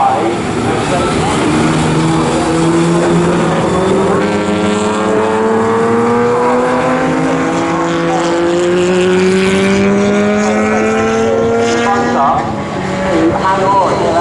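Historic Pre-63 and Pre-50 race cars roar through the Snetterton hairpin, their engines rising and falling in overlapping pitch sweeps as they jostle for position, loud and close under continuous commentary.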